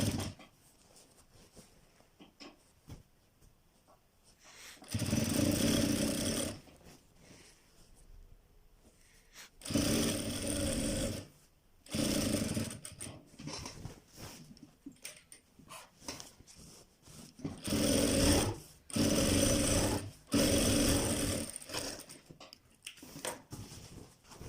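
A sewing machine stitches a shirt placket in several loud, even bursts of a few seconds each, separated by quieter pauses of handling the fabric.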